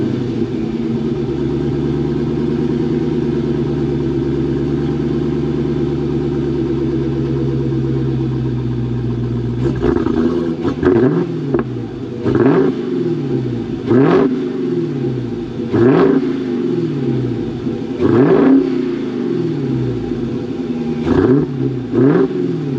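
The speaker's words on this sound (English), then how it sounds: "I'm about to give you the before exhaust note real quick" A Dodge Hellcat Redeye's stock exhaust, before a mid-muffler delete, holds a loud, steady idle rumble for about ten seconds, then snaps through a series of sharp throttle revs, each rising and falling in quick succession.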